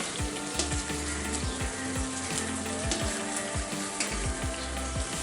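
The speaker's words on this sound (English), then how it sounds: "fried katla fish on the kadai and cook it for another 1 to 2 minutes" Fried katla fish pieces sizzle and spit in hot oil in a kadai, a loud steady frying hiss with repeated scraping stirs and clinks throughout, close up and with no talk.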